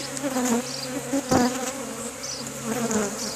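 A dense, steady buzz of a honeybee swarm being rehoused hums continuously, close and fairly loud, with a brief louder thump partway through and no talking.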